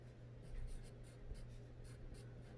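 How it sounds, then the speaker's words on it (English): A pencil writes a name on paper in a classroom lesson, a faint, scratchy stroking with soft repeated strokes, quiet and close, with no talk. "And you're going to write your name"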